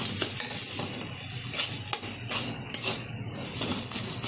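Ginger, green chilli paste and ground roasted fennel and cumin are stirred together in a pan as a filling, with a steady close sizzle and repeated scraping strokes throughout and no voices.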